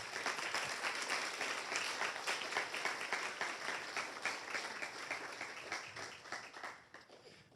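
Audience applause for Dr. Alveda King at a Students for Life event, steady clapping from a room of people that gradually thins toward the end.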